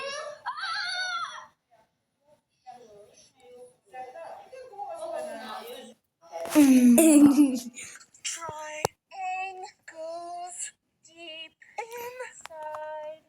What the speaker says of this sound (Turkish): bağırıyor.